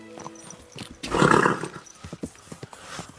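A horse in the medieval video game Kingdom Come, with a loud burst of whinnying and hoof noise peaking for about half a second, then fading into softer clopping and clatter.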